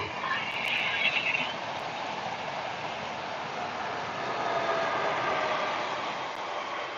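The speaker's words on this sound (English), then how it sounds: "A live train, a live train." A train passing at steady volume, a continuous rumbling wash with a brief higher squeal near the start, heard alone without voices.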